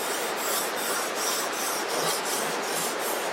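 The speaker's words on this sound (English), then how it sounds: "Just rubbing the knife back and forth" A knife blade is drawn back and forth to touch up its edge, giving a steady, close, continuous rasping rub with faint regular strokes repeating throughout, no voices.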